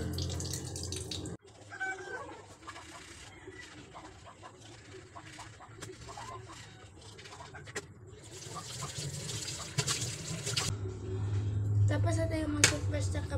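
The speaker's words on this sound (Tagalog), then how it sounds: "Lagyan natin ng tubig." Tap water runs into a sink to prepare for brushing teeth, a steady splashing flow that swells toward the end, with faint birds and small clinks in a home bathroom.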